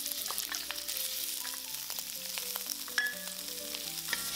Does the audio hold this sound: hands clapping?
no